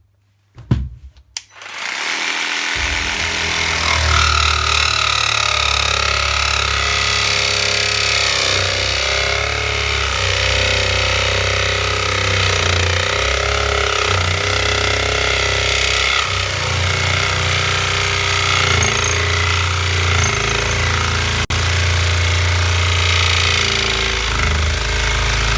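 A Parkside PSTKA 12 A1 12V cordless pendulum jigsaw strains through thick wood, a loud, steady buzzing drone that starts abruptly after a brief pause and holds continuously up close.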